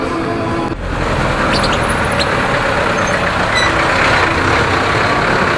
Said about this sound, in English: There's a truck just entered a gate.